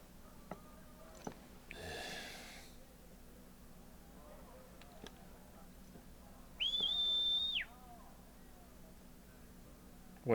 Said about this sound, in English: You can just whistle for a Stolas to come?